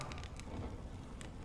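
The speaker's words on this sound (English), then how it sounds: "When will this rain ever stop?" Rain falls steadily in a video game scene in Penacony, a dense continuous patter and hiss with occasional brighter drip-like ticks, even in level, with no talking.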